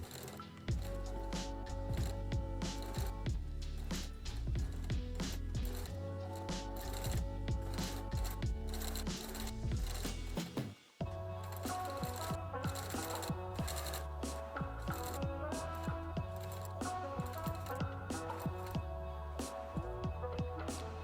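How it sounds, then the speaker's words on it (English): Sewing machine fitted with a walking foot stitching two layers of different fabrics, a steady rapid mechanical clatter in runs with a brief pause midway, recorded close, with music playing over it. "Here also I'm using a walking foot, which is great for sewing 2 layers of different materials together."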